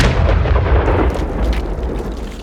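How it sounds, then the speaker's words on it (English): A loud, sustained explosive rumble with shattering glass and splintering composite, crackling, scattered debris noise that fades slightly over a couple of seconds. "An explosion of shattering glass and splintering composite erupts behind you"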